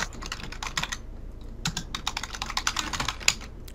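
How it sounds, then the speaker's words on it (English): Close, soft clatter of typing on a computer keyboard: uneven runs of quick key taps with short pauses, one sharper keystroke near the end, no talking. "What are you typing, boy?"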